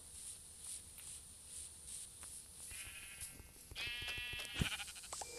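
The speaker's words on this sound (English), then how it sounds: "Oh, sheep! Sheep, oh sheep" Sheep in a survival video game give a few bleats, the clearest calls arriving in the last couple of seconds over a steady ambient background with light footstep-like sounds.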